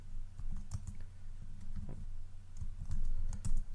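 Quiet, close keystrokes on a computer keyboard, a steady stream of soft clicks coming in small irregular bursts while code is typed.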